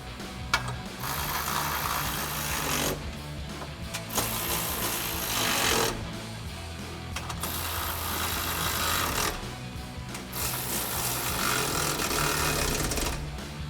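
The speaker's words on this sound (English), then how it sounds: "then we're gonna grab our ratchet with our 13mm socket and tighten them down" A power tool runs in long, loud bursts with short pauses between them while step bar bracket bolts are driven down with a 13mm socket on a 2007-2018 Silverado 1500.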